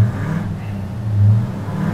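A modified American car set up like a race car, its engine revving at close range with a deep, loud drone that swells briefly midway.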